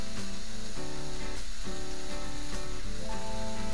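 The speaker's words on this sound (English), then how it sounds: "Pop your burger onto the hot part of the plancha and let that cook." A burger patty sizzles on a hot steel plancha, a steady close frying crackle and hiss running throughout with no talking.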